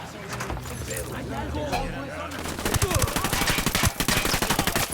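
Gunfire in Tom Clancy's Ghost Recon Wildlands: after a stretch of scattered combat noise and voices, a rapid, loud, sustained automatic burst of shots rattles steadily to the end.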